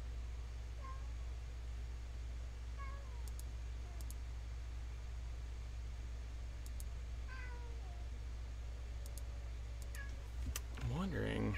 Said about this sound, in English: everyone can hear a cat